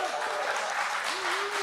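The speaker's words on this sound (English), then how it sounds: "Yes, clap for yourselves" Steady applause from a crowd gathered on Grand Rapids' west side for the governor's economic recovery speech, a dense wash of clapping with a voice talking over it.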